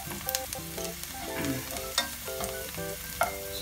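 Garlic frying in hot cooking oil, a bright continuous sizzle close up with sharp spatters and scraping clicks, plus some tonal background hum from the kitchen, no talking.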